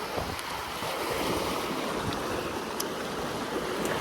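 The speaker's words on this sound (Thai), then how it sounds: "ลม มันพัดนะครับ" Steady wind gusting across a flowing stream outdoors, a constant broadband rush with faint water movement and occasional small ticks, no speech.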